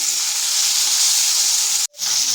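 Half-boiled kakrol hits hot oil with dry red chilli and sesame, a loud, close, steady frying hiss that cuts out briefly near the end before resuming.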